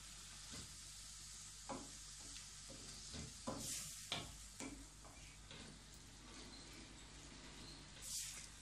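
Shrimp and chicken sear in a hot pan with a steady, soft sizzle, broken by a few louder crackles and the scrape of stirring, close and fairly quiet.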